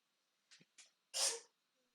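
A quiet sneeze with two short catching breaths before the main burst, soft and isolated in silence.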